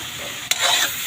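One kilo of squid being cooked as adobo in a pan: a steady close sizzle of frying, broken midway by a sharp stirring scrape, after which the hiss swells briefly louder.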